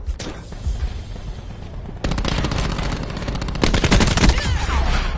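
Rapid automatic gunfire in a first-person shooter game, loud and close, in sustained bursts that grow heavier toward the end, with no talk over it.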